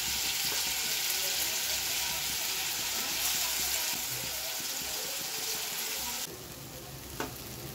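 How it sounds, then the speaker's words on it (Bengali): Steady, bright hissing sizzle of raw banana kofta fritters frying in hot oil, continuous and close, with a slight dip partway through and a faint clink near the end. "আমি এখন বড়াগুলোকে একে একে ভেজে উঠাবো"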